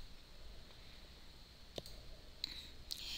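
Computer mouse clicks sound during a spreadsheet pivot table tutorial, a few sharp, isolated clicks spaced apart over a quiet background hum, close and crisp with no talking.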